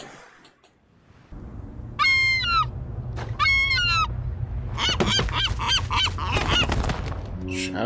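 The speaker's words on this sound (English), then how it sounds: "I don't think you should mess with the seagulls on an island." Seagulls calling on an island in the film The Lighthouse: two short bursts of raucous, honking cries, then a denser cluster of calls, all over a steady low rumble.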